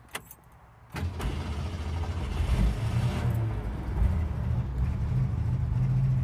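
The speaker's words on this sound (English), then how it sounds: "let's fire this thing up." A 1966 Ford Mustang with a slant six engine is started: after a few quiet clicks the starter catches about a second in, then the engine settles into a steady, close, mid-pitched idle with slight revving.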